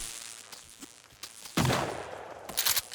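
A warning shot fired in the survival game Sons of the Forest: a loud, sharp gun report bursts out after a quiet stretch, followed shortly by another cluster of cracks, with faint ambient game sound between.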